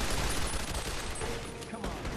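Dense, continuous gunfire from a hard-to-control gun in Fallout: New Vegas, with rapid shots running together at steady loudness through the whole stretch.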